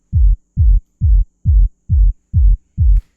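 Electronic kick drum processed with a Kick Tweak plugin, seven deep booming hits in an even steady pulse, each a short thick low thump, loud and alone with nothing else playing.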